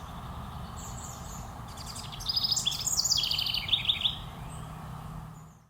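House wren song: a burst of rapid, bubbling high trills and chattering notes rising and tumbling for about two seconds, moderately near, over a steady background hiss.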